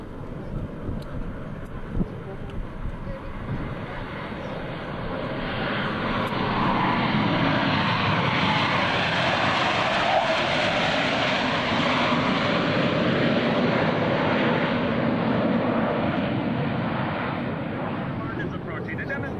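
US Navy Blue Angels jets make a high-speed pass at the 2003 Dayton airshow. Their roar builds over several seconds into a loud, sustained, rushing thunder that lingers before easing slightly.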